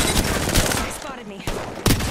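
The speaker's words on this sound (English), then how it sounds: "what is with everybody's shotguns?" Loud, rapid gunfire bursts from a video game firefight with shotguns in play, with sharp blasts clustered at the start, a brief lull and another hard shot near the end.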